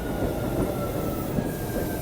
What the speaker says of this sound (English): look, it's the dirty yet very filled with advertisements train here at high noon